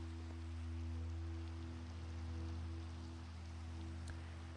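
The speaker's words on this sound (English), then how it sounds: "Well, it's raining all right over here." Rain falling in the Minecraft video game, a steady, even hiss of rainfall that runs the whole time under a constant low hum, with no talking.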